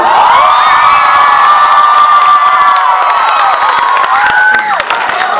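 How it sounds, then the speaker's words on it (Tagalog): Audience at a live comedy show in Jacksonville cheering and shouting loudly, a dense sustained roar of voices with scattered clapping, fading slightly near the end. "Magpalakpakan na may kasamang hiyaw lahat ng naniniwalang maganda ko sa personal."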